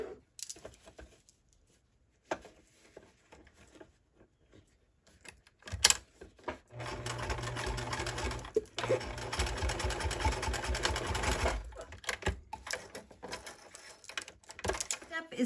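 A sewing machine punches through heavy garden pouf fabric in a burst of fast, steady stitching lasting several seconds, preceded by quiet handling sounds and a spoken voice.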